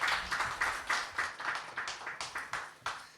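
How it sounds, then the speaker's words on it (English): Slow, rhythmic clapping at a literature festival event, about a dozen distinct claps in a regular pulse, moderately close and fairly quiet, as if from a small group. "Can we have a huge round of applause for them?"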